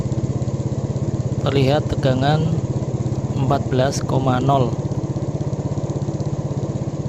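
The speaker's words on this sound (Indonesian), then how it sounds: "Sudah hidup ya untuk motor." A motorcycle engine idles steadily nearby with a fast, even putter, while someone speaks briefly over it.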